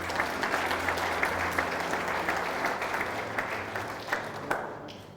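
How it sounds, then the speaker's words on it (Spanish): A church congregation applauds the Lord together, a steady dense wash of clapping from many hands that holds evenly throughout and thins slightly at the end. "¿Puede aplaudir al Señor por eso?"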